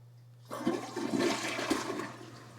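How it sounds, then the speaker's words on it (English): A newly installed elevated toilet on a basement platform flushes nearby, starting suddenly with a rushing, gurgling swirl of water that stays strong and then begins to ease, over a low steady hum. "The maiden flush."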